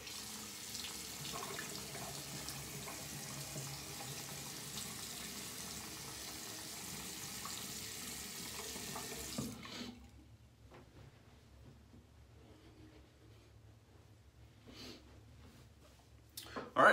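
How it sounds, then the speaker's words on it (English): Tap water running steadily into a bathroom sink during a face rinse after a shave, a continuous close splashing hiss that cuts off abruptly, leaving quiet room sounds with a few faint knocks. "let me just rinse off my face and we'll get to the post shave"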